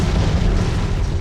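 A 16-shot small firework cake barrage, Happy Shepherd by Celtic Fireworks, booms loudly and continuously, its deep bursts blending into one heavy rumble.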